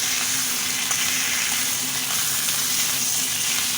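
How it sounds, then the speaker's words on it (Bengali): Vegetables for shukto fry steadily in a pan with turmeric, giving a continuous, even sizzle that holds close and fairly loud throughout, with no voices. "সবজিগুলো এইভাবে ভাজা ভাজা করে নেব"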